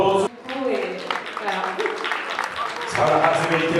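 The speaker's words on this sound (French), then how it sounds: "Sarah Hassemélité, on applaudit encore une fois." An audience applauds at an awards evening, a scattered wash of clapping mixed with talk over a public address, swelling again near the end.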